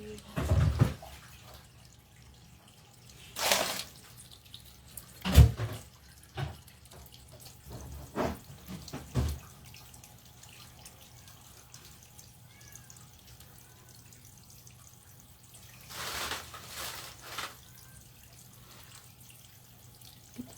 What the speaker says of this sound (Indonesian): kita siram dari kamar mandi